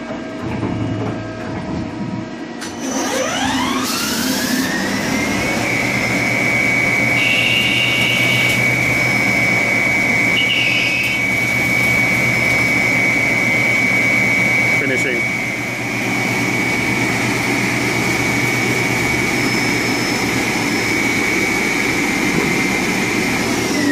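A metal lathe spins up and turns a 30 mm bar of 6182 aluminum with 55 mm stick-out, a steady machine whine rising to a sustained tone with rumbling motor noise underneath, under continuous talking.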